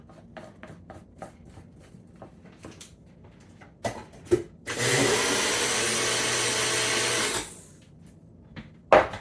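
A blender whirs steadily for about three seconds, reblending a protein smoothie after a tablespoon of honey has been drizzled in. Scattered taps and clatter come before and after the run.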